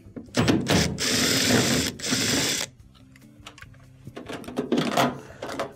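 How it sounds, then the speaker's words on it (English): Phillips screws are backed out of the bottom of a door lock's front plate, with loud whirring bursts from the driver followed by softer clicks and rattling parts nearby. "So take these Phillips screws off on the bottom"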